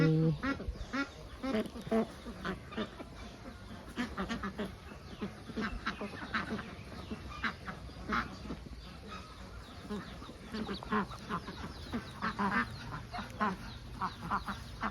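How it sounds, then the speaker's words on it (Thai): Big white egg-laying ducks on a duck farm quack and honk in a busy flock, many calls overlapping at close range, while someone talks over them. "เดี๋ยวเราหันมาดูเป็ดขาวฝั่งนี้กันดู อันนี้เป็ดขาวตัวใหญ่"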